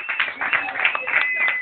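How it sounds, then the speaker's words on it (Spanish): Audience applause at a live comedy show, dense scattered clapping that runs steadily for a moment with a faint tone held underneath. "Un gran aplauso para él."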